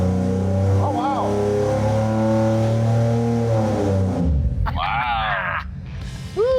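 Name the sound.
Chevy 4.3L V6 engine revving wide open on dyno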